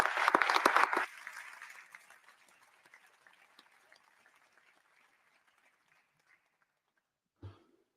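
Warm applause at an IOC session for the Coordination Commission and Games Delivery team, loud clapping for about a second that quickly thins into scattered claps and fades, with a brief thump at the end.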